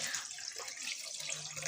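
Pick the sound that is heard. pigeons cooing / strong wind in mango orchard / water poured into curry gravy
water poured into curry gravy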